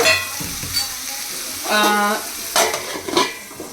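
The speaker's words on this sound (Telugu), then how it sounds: "ఒక 2 మినిట్స్ అది చికెన్ ఫ్రై అవుతుంది" Chicken for gongura chicken fries in a pan with a steady sizzle, broken by a few stirring and scraping strokes of a utensil against the cookware.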